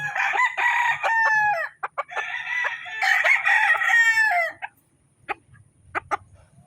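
A five-month-old Gilmore-cross gamefowl rooster crows in long, loud, harmonic calls, two drawn-out crows in close succession, followed by a few short clucks and quieter scratchy noises.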